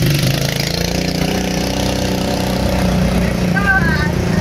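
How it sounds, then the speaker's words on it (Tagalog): Motorcycle engines idle in a loud, steady rumble throughout, gathering for a rabies awareness motorcade, with voices faintly mixed into the running-engine drone. "para makapag-start na po yung motor"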